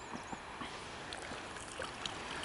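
Water from a small spring trickles and gurgles softly outdoors, a faint continuous babble with tiny splashes, quiet and close.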